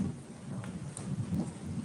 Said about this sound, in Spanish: Que se vino fuerte la tormenta.